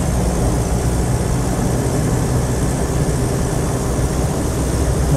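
A Land Rover 90 hardtop with a 2.5 naturally aspirated diesel engine drives along, giving a loud, steady, unbroken roar of engine and road noise with no voices.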